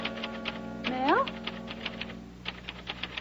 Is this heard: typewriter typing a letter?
yes